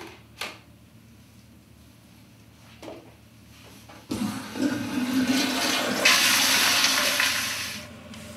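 Toilet flush in a patient care setting, a few faint clicks and handling sounds first, then the loud close rush and swirl of water building and draining for several seconds.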